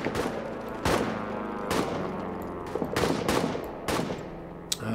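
Rifle shots ring out in the World War I trench game All Quiet in the Trenches, several sharp, loud cracks spaced irregularly over a steady battlefield din.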